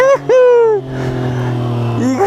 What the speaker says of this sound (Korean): 이건 풀백이고 유로4 엔진이기 때문에 정말 타협하지 않은 그런 소리거든요